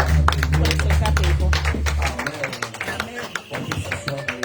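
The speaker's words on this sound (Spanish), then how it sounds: "Aplaude, aplaude." Church congregation at a Pentecost service clapping along, steady rhythmic claps mixed with singing and voices, a low hum dropping out partway through.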